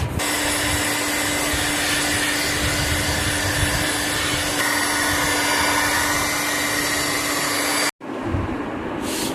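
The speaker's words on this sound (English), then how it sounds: "then shrink it using a heat gun" A heat gun blows a loud, steady roar while shrinking a cover on an old cooler during restoration, then cuts off abruptly near the end before a short burst of noise resumes.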